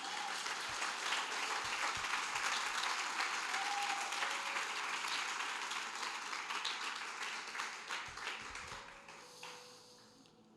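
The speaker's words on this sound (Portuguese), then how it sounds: "Você pode aplaudir ao Senhor?" A church congregation gives a sustained burst of clapping praising the Lord, dense and steady for several seconds before thinning out and fading near the end.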